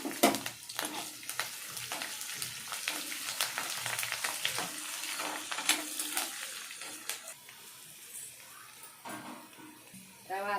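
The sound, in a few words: tempering spices and curry leaves frying in oil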